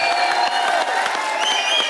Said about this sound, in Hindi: एक बार जॉन और मोनी के लिए जोरदार तालियां